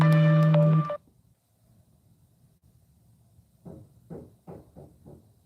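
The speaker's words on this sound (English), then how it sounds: "Yeah, my phone rang." Phone tone sounds briefly and loudly at the start, a bright electronic ringtone burst that cuts off, followed by quiet room noise and a few short voice-like sounds.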